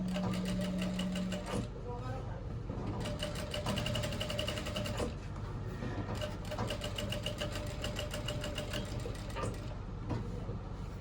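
A straight-stitch sewing machine runs in steady mechanical bursts while stitching a thread design, its rapid rhythmic clatter pausing briefly between runs, with a voice speaking faintly underneath.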